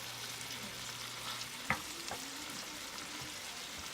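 Spiced ground beef keema simmers in a pan with a faint, steady sizzle. One sharp clink of a utensil stands out partway through, and no one speaks.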